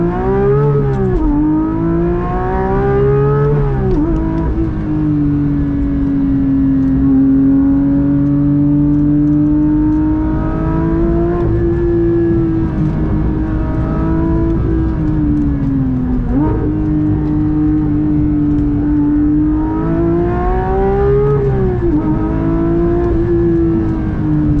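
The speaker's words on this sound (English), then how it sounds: "Some uninterrupted acceleration noises." A manual Porsche 992 GT3 accelerates hard, its engine heard from inside in a loud, sustained howl that climbs in pitch through each gear, dropping briefly at every shift before rising again, with no talk over it.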